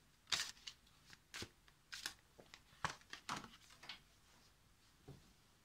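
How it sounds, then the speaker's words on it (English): A deck of playing cards being shuffled by hand at a wargame table, several quiet, crisp riffles and flutters in irregular bursts, close but faint. "So I'm just shuffling the deck"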